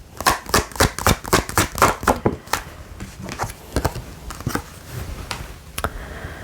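Tarot cards are shuffled and drawn: a quick run of crisp, rhythmic riffling flicks close by, then slower scattered taps and soft slides as cards are handled, with no voices.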